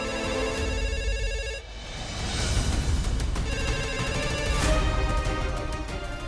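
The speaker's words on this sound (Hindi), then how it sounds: "कब से फोन बज रहा है" A telephone bell rings steadily, its bright electronic trill cutting off briefly before resuming over a low background rumble.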